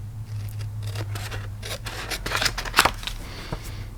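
Scissors snipping through 12x12 scrapbook paper for a junk journal folio, a run of close, crisp cuts and paper rustles with a sharper snip near the middle, heard alone without talk.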